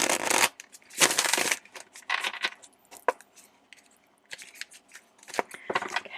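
Tarot cards being shuffled by hand close up: crisp riffling bursts and soft slaps in irregular clusters, separated by brief quiet gaps.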